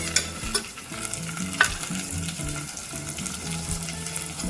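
Ginger, garlic and tomatoes fry in a pan for Indian village-style dal baati: a close, continuous crackling sizzle broken by a few sharper spattering pops and stirring scrapes, with no voices.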